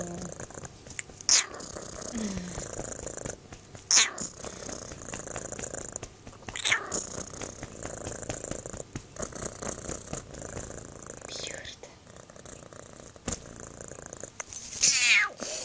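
A talkative cat purring steadily and close up, a continuous rumbling drone broken by a few sharp bursts and meow-like sounds, with no voices over it.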